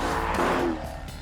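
A Jaguar XE Project 8 with a ten-year-old engine making nearly 600 horsepower gives a short, loud, close burst of engine roar with some tyre noise.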